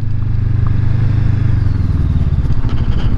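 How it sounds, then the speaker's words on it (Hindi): A motorcycle riding over a bumpy, uneven gravel road in a mountain provincial park, with a steady loud engine drone and constant rattling clatter from the rough surface, close and continuous with no talk. "मोटरसाइकिल हिले ही जा रहा है"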